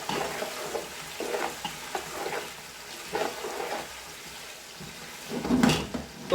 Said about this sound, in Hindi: तो प्याज को हम ब्राउन कर लेते हैं